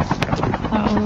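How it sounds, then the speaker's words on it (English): Several helicopters fly in a multiplayer video game with airdrops, their rotor chop carrying as a steady mid-level throb beneath a player talking over it. "Look at all them choppers"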